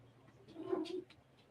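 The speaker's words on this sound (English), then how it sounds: "she's just running around the apartment meowing" A single short, soft meow from a cat, fairly close and quiet.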